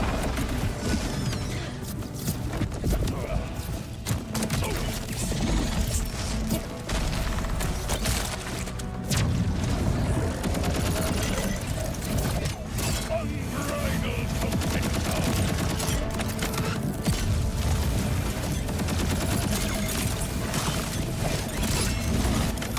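Dense, continuous gunfire from shooting in Borderlands 4, a steady barrage of rapid shots and impacts running throughout without letup.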